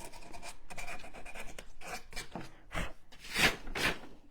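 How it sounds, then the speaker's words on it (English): A nativity set piece is sanded by hand to bring out its details. Close, rasping strokes sweep back and forth in an irregular rhythm, the last few louder and harsher. "See how I'm sanding that off and all those details are popping out?"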